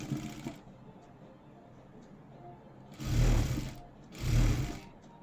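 Sewing machine stitching a hook strip onto a blouse, heard as two short, close bursts of whirring stitching separated by a quiet pause.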